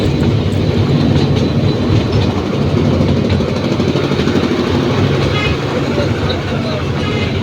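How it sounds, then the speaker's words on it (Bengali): Riding a toy train through Surya Sen Park past artificial hills, a continuous close rumble and clatter of wheels fills the scene while a person talks over it. "এখন আমরা পাহাড়ের ভিতর দিয়ে টয় ট্রেনটা চলে আসলো"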